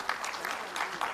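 An audience gives a round of hand clapping at a formal event after a music performance, dense and steady applause heard at a moderate distance.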